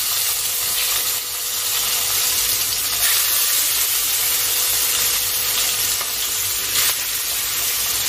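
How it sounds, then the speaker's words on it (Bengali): Shing fish (stinging catfish) fry in hot oil in a kadai, giving a dense, continuous sizzle that holds steady and close throughout, with no voices. "আগে আমি মাছগুলোকে ভেজে নিচ্ছি।"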